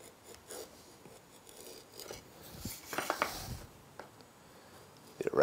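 A woodworking chisel cut along a straight line, giving quiet scraping and rasping strokes close by with a few sharper taps and scuffs, and no talking.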